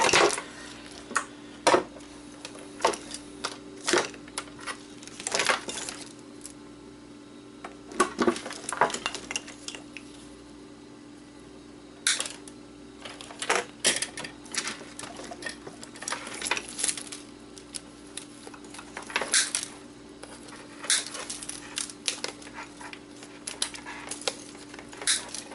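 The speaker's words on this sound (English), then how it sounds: "Let's cut all this wire and ribbon loose." Snips cutting loose wire and ribbon cable from an old electronics board, giving sharp metallic clicks and clacks that come in irregular bursts, close and fairly loud, with steady quiet background hum between cuts.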